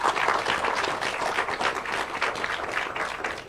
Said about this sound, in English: can we have another round of applause for our panel?